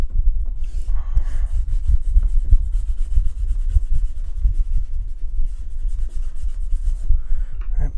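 Oil pastel is rubbed around on paper, with gray and other colours layered over Nupastel for a shallow dirt-road puddle scene, producing close, continuous dry scrubbing strokes.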